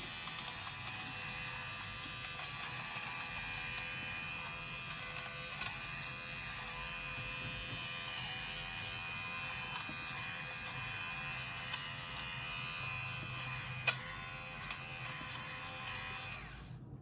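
A cleaning machine runs after someone presses its start button. It gives a continuous, even electric buzz with a steady whine that holds for the whole stretch and then cuts off at the end.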